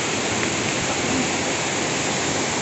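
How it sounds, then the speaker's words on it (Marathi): Steady rain falls in a dense, unbroken hiss throughout a monsoon trek near Ganpati Gadad, loud and close with no distinct drops standing out. "पाऊस थोडा कमी झाला आहे"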